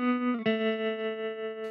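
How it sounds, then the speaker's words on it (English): Electric guitar, played through an effects chain with reverb always on and a spacey echo, rings out with sustained chords, a fresh strum near the start and a long, shimmering decay, alone and close. "The other effects that I'm going to use are the reverb, which is on pretty much all the time. Nice little bit of spacey echo there."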